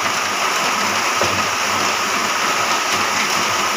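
Steady, dense rainfall hisses continuously, a loud broadband wash with no voices.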